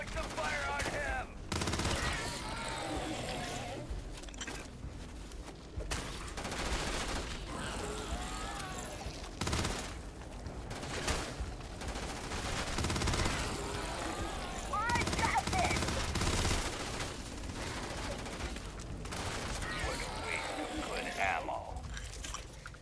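A firefight in the space game Starfield: repeated bursts of gunfire and rapid automatic shots crackle on and off throughout, moderately loud, mixed with game effects and someone talking.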